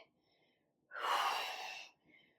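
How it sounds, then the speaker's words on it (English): One loud, heavy gasping breath from a woman doing a total-body strength workout with sumo squats and overhead tricep presses. It is close and alone, with faint quiet breathing before and after. "You hear me breathing heavy."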